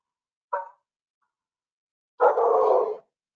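A dog barks twice, a short single yip followed after a pause by a longer, louder bark or howl-like sound, with no talking.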